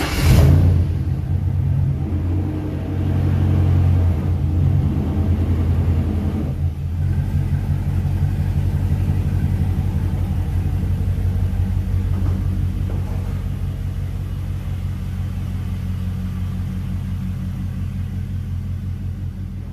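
A 1997 Ford Ranger's engine idles as the truck backs out of a garage, a steady close low rumble with a brief rev near the start that settles into an even, slowly fading drone.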